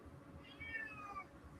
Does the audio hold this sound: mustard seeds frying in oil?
no